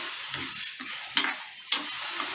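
Sambar masala spices dry roasting in a pan, a steady soft rustling sizzle with a few sharp clinks of a spoon against the metal, close and moderately quiet, with no voices.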